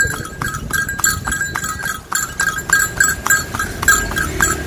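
A five-year-old horse near a religious tomb site clip-clops in a steady, regular rhythm of hoofbeats with a light jingling, close by, while people talk faintly in the background.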